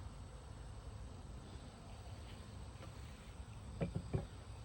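A faint, steady insect drone from honeybees newly housed in a Layens hive in a shady backyard, with a couple of soft knocks near the end.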